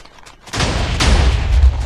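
A sudden loud burst of gunfire in the game WarGear erupts after a quiet moment, followed by sustained booming shots and rumbling blasts.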